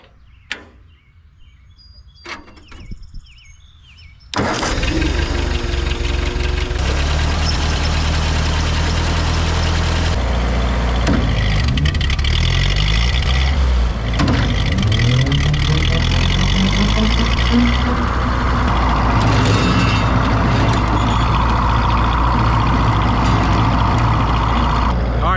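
A Ford 8N tractor engine cranks and catches after a few quiet clicks and shuffles, then runs loud and steady at idle for a long stretch, close by, with no talk over it.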